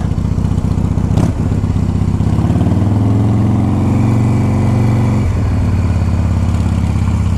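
A 1982 Harley-Davidson FXR Shovelhead motorcycle engine runs loud and close with a lumpy, throbbing idle, and the revs rise and fall briefly partway through.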